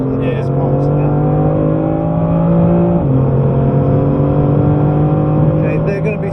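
A BMW M3 engine pulls hard on a hot lap at Goodwood, a loud steady drone that shifts pitch about halfway through as the car accelerates out of a corner, with a voice talking over it throughout.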